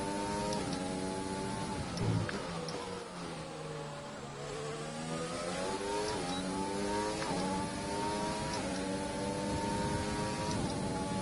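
A Formula 1 car engine in the game F1 2020 drones steadily at the Singapore track, its tone shifting up and down as the revs change, running continuously at moderate loudness.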